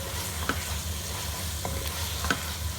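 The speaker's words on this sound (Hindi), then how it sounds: "अच्छी तरह मिक्स करें।" Mint and coriander being stirred into sizzling biryani masala in a pan, a steady frying hiss with occasional soft scraping strokes, close and continuous.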